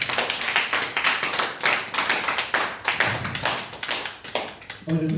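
A congregation applauds during a French-language church service, with dense, rhythmic clapping that fills the space steadily and evenly throughout.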